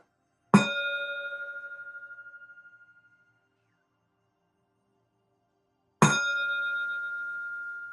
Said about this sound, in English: And now listen to the sound of the Tibetan chime.